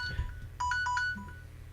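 A phone rings indoors with a short electronic ringtone, a few bright repeated tones over low background rumble, fairly close and clear with no talk over it.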